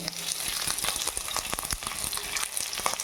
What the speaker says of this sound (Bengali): তেল গরম, পেঁয়াজ দিয়ে দিচ্ছি।